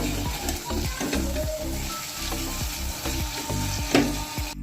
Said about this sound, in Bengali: ধনেপাতাটা দিয়েও আমি নাড়াচাড়া করে নেব।